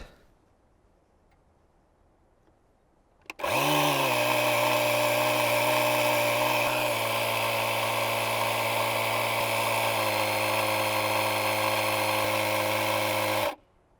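A battery-powered EtenWolf Vortex S6 portable air compressor inflating a tire starts abruptly after quiet, runs loud and close with a steady buzzing motor drone, its pitch easing down gradually over about ten seconds before it cuts off.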